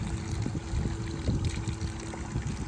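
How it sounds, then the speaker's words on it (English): Cold spring water trickling at Bethel Springs, Tennessee, a soft uneven splashing and gurgling with small irregular bursts, quiet and close, with no voices. "Love this water. Love this spring."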